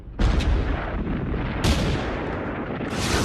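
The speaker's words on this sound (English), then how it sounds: "the German barrage began" A WW1 German artillery barrage thunders continuously, a dense, loud roar of overlapping heavy blasts with fresh detonations swelling in at intervals.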